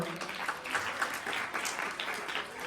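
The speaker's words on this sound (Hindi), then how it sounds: "एक बार उनके लिए जोरदार ताली हो जाए" Audience at a Republic Day school event applauding a donor of computers for children, a moderate burst of scattered clapping with faint voices mixed in.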